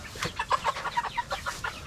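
Barred Rock hens clucking on a farm, a run of short, soft, evenly spaced clucks and chirps, fairly quiet and close, with no voices.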